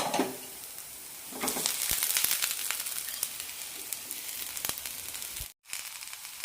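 Potato stir fry cooking in a pan as sautéed potatoes and curry leaves are added: a steady close sizzle with scraping and stirring bursts, no talk.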